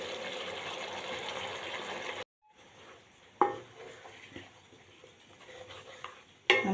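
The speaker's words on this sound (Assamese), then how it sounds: "ভালদৰে মই লৰাই দিছোঁ।" Spinach paste gravy for palak paneer stirred in a pan: steady close scraping for about two seconds, a short pause, then softer stirring with light spoon clinks against the metal.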